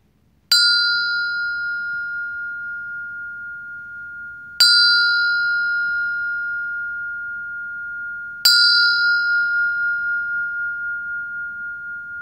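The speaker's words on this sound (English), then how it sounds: "With that, I'll sound the bell." A meditation bell is struck three times at even intervals, each strike ringing out clearly and slowly decaying into the next, with no voices.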